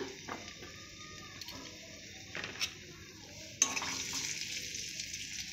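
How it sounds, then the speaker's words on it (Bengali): Mango pieces fry in a pan with a soft, steady sizzle, broken by utensil scrapes and a sharp clank of metal on the pan, close and quiet, with no talking. "প্রথমে আমগুলো ভেজে নেব"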